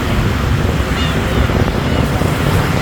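Cold evening wind on an island trip to Debudo Island, around seven at night, rushes steadily across the microphone as a loud, unbroken roar that fills the whole stretch.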